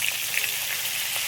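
Papaya slices fry in a pan of oil for a hilsa fish curry, giving a steady, close, even sizzle with no talking.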